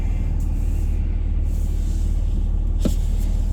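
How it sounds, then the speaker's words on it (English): A large snow plow truck passes on a blizzard-covered highway, a steady heavy low rumble throughout with a brief hissing burst near the end, no talk. "big guy coming through, big plow guy"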